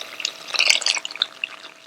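Water being poured into a bowl of yogurt, ground flour and spice mixture for karhi pakora, a close, splashy liquid pour with light clinks and stirring over about two seconds, no voices.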